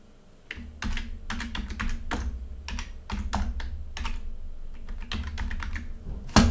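Typing on a computer keyboard, close and distinct key taps in quick irregular runs, clear and fairly loud with no voices.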